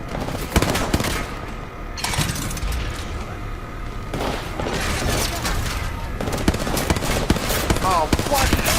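Sustained machine gun fire in the video game Apex Legends, loud, dense bursts of rapid shots with mechanical clatter running nearly continuously, with some talk mixed in.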